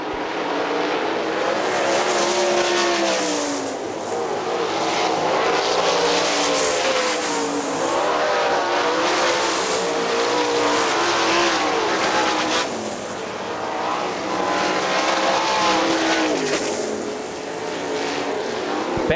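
Sprint cars race around the Hartford Speedway Park dirt oval in a Great Lakes Outlaw Sprint Series event, engines roaring loud and continuous, with rising and falling pitch as the pack passes close by.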